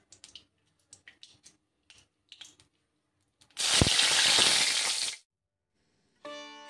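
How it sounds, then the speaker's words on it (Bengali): Dried red chilies drop into hot oil left over from frying fish, setting off a loud, close sizzle burst lasting about a second and a half, after a few soft kitchen taps and before a brief tonal hum. "শুকনো লঙ্কা ফোড়ন দিলাম"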